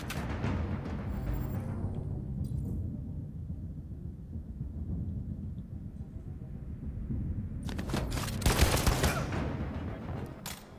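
Gunfire in the video game Detroit: Become Human: a low rumbling backdrop gives way to a sharp, loud burst of rapid shots near the end.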